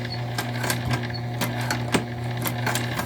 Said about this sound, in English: we are going to back stitch